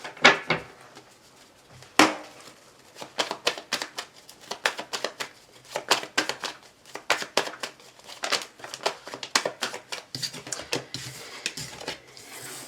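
Tarot cards are shuffled by hand in a series of crisp, close riffles and flicks, irregular bursts of papery snapping with short pauses between them.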